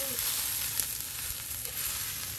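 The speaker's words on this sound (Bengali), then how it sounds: "দেখেন কত সুন্দর ভাজা ভাজা হচ্ছে শুকনো পাট শাক।" Dried jute leaves (pat shak) fry in a pan with a steady, close hiss and crackle of sizzling oil, a constant texture with no talking.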